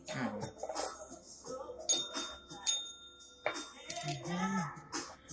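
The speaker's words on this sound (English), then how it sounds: "Let me ring that bell." A small bell chimes a few bright times between stretches of talking, its clear ring hanging briefly over the voice.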